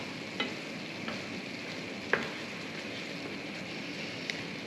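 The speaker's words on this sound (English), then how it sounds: "And just continue to cook and stir." A red sauce for sweet and spicy Mexican wontons cooks and bubbles in a pan, a soft steady sizzle broken by a few sharp spoon taps and scrapes as it is stirred, close and unaccompanied by talk.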